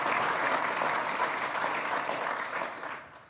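An audience at an F1 engineers' fan forum applauds in a steady, dense wash of clapping that holds for a few seconds, then fades toward the end.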